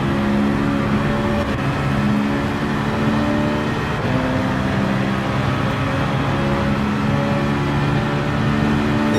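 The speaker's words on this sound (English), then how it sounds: "In this section, I make a mistake and run too wide, giving the opportunity to Cameron to overtake me." A racing car engine in Gran Turismo 7 drones loud and steady throughout, its pitch shifting slightly as the car runs through a section of the race.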